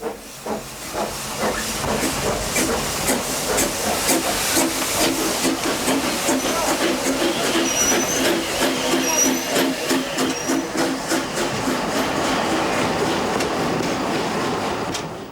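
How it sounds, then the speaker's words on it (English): Festiniog Railway narrow gauge oil-burning steam locomotive David Lloyd George, built 1992, working nearby with a steady loud hiss and rhythmic chuffing beats, faint high squeals of wheels on rails partway through. "David Lloyd George, is the newest engine operating on the line, built in 1992"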